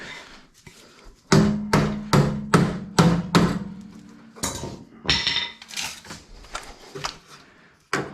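A hammer knocks out spot welds on a Jeep ZJ front bumper: a burst of loud, evenly spaced metallic blows close up, then a looser series of lighter knocks and clanks.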